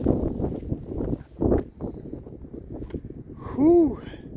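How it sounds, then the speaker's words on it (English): Wind gusts across a microphone on Pine Mountain during a hike, rumbling in uneven bursts with a voice talking over it. "Don't mind the wind."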